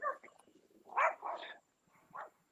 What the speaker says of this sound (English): Now I got dogs after me. Hear them?